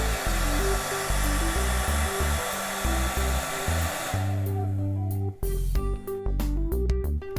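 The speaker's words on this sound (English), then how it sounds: "watch what happens when I use this hairdryer to blow on the fan blades." A hairdryer roars loudly and steadily close by as it blows on the blades of an unplugged fan, its drone shifting in pitch, then briefly dipping before carrying on with faint clicks.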